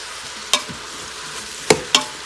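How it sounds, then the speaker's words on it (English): Sliced onions with salt fry in an Instant Pot under a soft steady sizzle, broken by three sharp scraping clicks of a spoon stirring against the pot. "Let the onions cook for 3 to 4 minutes."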